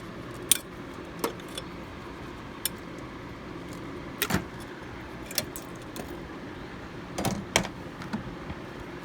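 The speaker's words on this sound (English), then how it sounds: "it's time to put the 10mm screws I took out" Metal screws, 10mm, being fitted back into a 2006–2011 Honda Civic during brake master cylinder work, heard as scattered sharp metallic clinks and taps over a low steady background hum, irregular and close.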